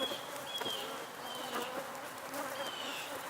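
Western honey bees buzz in a continuous, even drone, moderately close, with faint outdoor ambience and no voices.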